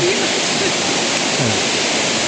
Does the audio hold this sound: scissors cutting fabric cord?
no